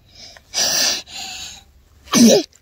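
Close by, a sharp sneeze breaks out in a burst, followed by a softer breathy exhale and then a second loud, wheezy sneeze a moment later, with no talking.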